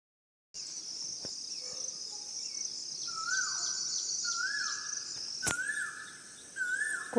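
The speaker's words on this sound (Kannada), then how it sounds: "ಕೋಗಿಲೆ ಎಷ್ಟು ಚೆನ್ನಾಗಿ ಸೌಂಡ್ ಮಾಡ್ತಾಯಿತ್ತು, ಅದಕ್ಕೆ ವಿಡಿಯೋ ಮಾಡಿಕೊಂಡೆ" An Asian koel calls early in the morning with several rising whistled notes in a loose sequence over a constant high insect drone, heard from a moderate distance.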